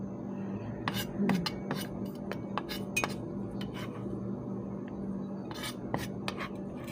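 A knife chops shallots on a cutting board while Thai fish tofu with chili and garlic is prepared, giving a string of sharp, irregular taps and clicks close by over a quiet kitchen background.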